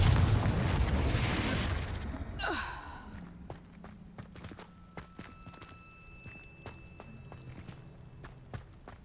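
A Confringo spell explodes in Hogwarts Legacy on PC: a loud, dense blast opens, then fades into a low rumble followed by scattered faint clicks and in-game footsteps.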